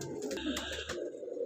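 Pigeons kept for sale by a breeder in Faisalabad coo softly in a short, faint burst of low throaty calls, with no talk.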